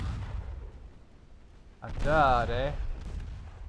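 A torpedo strikes a ship in the naval game Ultimate Admiral Dreadnoughts, one fairly loud explosion with a roar that fades within about a second.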